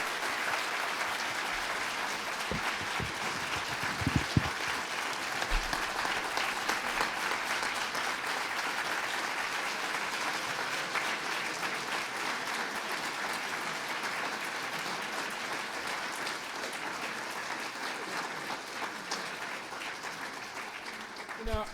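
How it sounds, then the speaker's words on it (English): Audience applause for Ben Jealous at a panel discussion on racial profiling, a steady, fairly faint wash of many hands clapping that holds evenly for over twenty seconds. "let's have one more round of applause for"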